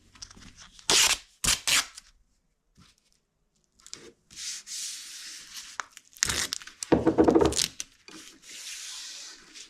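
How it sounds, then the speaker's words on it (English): Masking tape is pulled off the roll and pressed onto the limbs of a homemade bow, making several sharp ripping and rubbing bursts separated by short pauses, close and fairly loud. "Now I will put some masking tape on the limbs."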